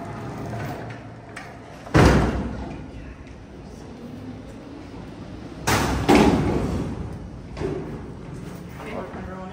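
An Otis freight elevator door in Ann Arbor opens with a loud thud, then more heavy clunks and a rumbling slide follow over background hum, with people talking intermittently.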